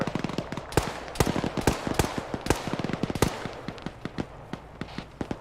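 Rapid bursts of gunfire from an ArmA 3 infantry battle crack close and loud: overlapping automatic volleys and single shots fire steadily throughout, with no speech.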